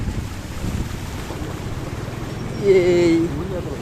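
Wind and water rush around a vehicle moving slowly through flood water on a Kerala road, a continuous close roar with a brief tonal whine near the end.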